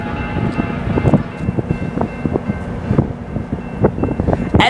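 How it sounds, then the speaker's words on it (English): Union Pacific SD70ACE diesel locomotive rolling past at close range, a loud steady rumble with rhythmic clanks and knocks from the wheels and cars, plus wind noise on the microphone. "SD70 ACE. Woo! Woo! 9220. Union Pacific on the front."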